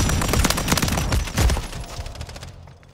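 Light machine gun in Call of Duty MWIII on the Rust map, a loud, close burst of rapid automatic fire that tapers off and stops near the end.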